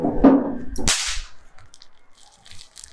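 Snap poppers, small Diwali kids' firecrackers, thrown onto the ground: a brief rustle, then one sharp, loud crack close by, followed by faint scattered crackles and quiet background noise.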